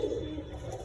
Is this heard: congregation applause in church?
no